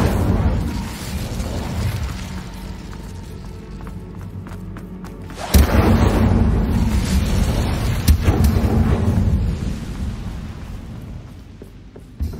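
An Incendio fire spell blast in Hogwarts Legacy, a sudden roaring burst that swells out of a low rumbling game ambience and trails off over several seconds.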